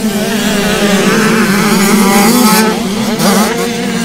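Motocross motorcycles racing on a track during a French Elite championship round, loud close engines screaming and revving up and down as bikes pass, continuous and roaring.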